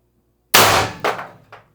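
A single loud, sharp report from a Mercury Rise IntruBuster G2 CO2 air gun with a CAR expansion stock on a 24 g cartridge, followed by two quick fading echoes or clanks in a quiet space.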